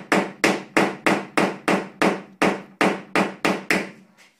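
Hammer tapping out a dent on a Lada Granta during paintless dent repair, about eleven sharp, evenly spaced metallic blows in steady rhythm, close and loud with no talking.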